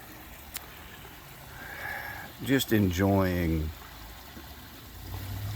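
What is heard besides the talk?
water running down over rocks, waterfall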